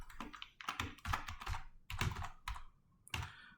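Someone types rapidly on a computer keyboard, making quick bursts of close, crisp key clicks with short pauses between words, with no voices.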